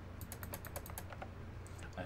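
A quick run of light, crisp clicks, several in a row, then a pause, close and fairly quiet.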